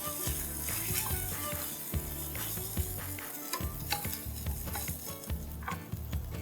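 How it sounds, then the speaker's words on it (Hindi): Boiled rice being sautéed in Blue Band margarine in a pan, a steady soft sizzle broken by frequent utensil stirs and scrapes, with clinks of pots throughout. "ब्लू बैंड में मैं ये चावलों को ज़रा सॉटे कर देती हूँ, प्लेन बॉइल्ड चावल हैं"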